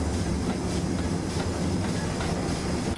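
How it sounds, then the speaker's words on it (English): A locomotive slows under a light throttle notch with the reverser in full forward at Malmsbury, giving a steady rumbling train noise with rhythmic clickety-clack of rolling wagons, close and continuous, with no talk. "just give it a little notch on the throttle and let the locomotive start to slow you down"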